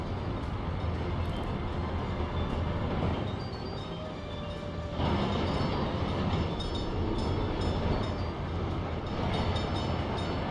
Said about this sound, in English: Trains are loud.